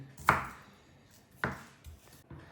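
A kitchen knife chops food for a cheese soup on a cutting board, giving two sharp, close strikes about a second apart, then a softer third tap near the end, with quiet room tone between.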